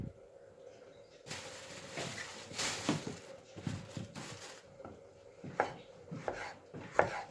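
Jalapeño peppers are chopped on a board with a knife, giving irregular close taps and thuds in short runs, moderately faint, with a low background hum.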